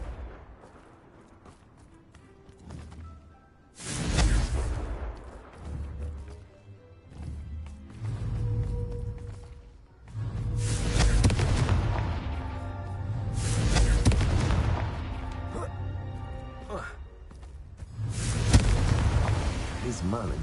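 Repeated fiery spell blasts from the Confringo curse in Hogwarts Legacy, several loud booming bursts spaced a few seconds apart over game music, with a voice speaking in between.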